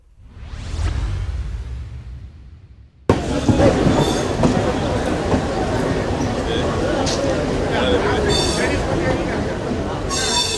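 The Palakkad–Coimbatore passenger train runs in motion, with a loud, continuous rumble and rattle of wheels and carriages. A whooshing swell comes first, then a sudden jump into a dense, close clatter with occasional squeal-like tones.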